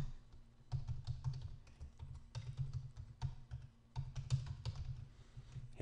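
Computer keyboard keys tapped in quick, uneven bursts while an email address is entered for a Drupal 7 contact form, close and moderately loud with short pauses between runs of keystrokes.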